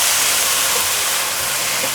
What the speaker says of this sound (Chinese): 持续的炒，炒到菠菜变软